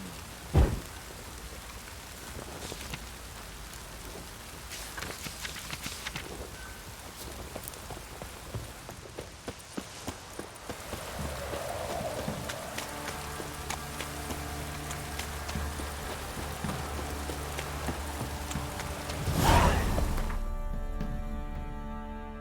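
Steady rain falls in The Witcher 3: Wild Hunt, a soft continuous patter on surfaces with scattered drops and a few thumps, building slightly toward the end with a sharper burst near the close.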